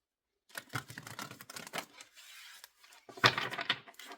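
Tarot cards shuffled by hand in quick bursts of papery riffles and soft taps, close and fairly quiet, with a louder flurry near the end.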